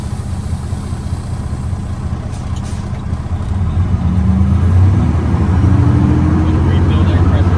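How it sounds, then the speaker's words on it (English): Truck doing a service brake test, the engine idling then rising in a low rumble as it pulls slowly forward, close and steady inside the cab. "I am now gonna do my service brake test."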